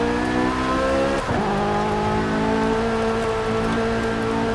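A Corvette muscle car in the video game Forza Horizon 5 drones steadily with a brief squeal of spinning tires, the revs shifting then holding at a loud, continuous pitch.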